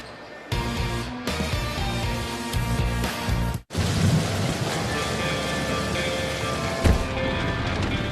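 Heavy rain pours steadily in a wiper blade commercial, with rolling thunder rumbling underneath, a brief drop-out midway, then a sharp thunder crack near the end; no voices.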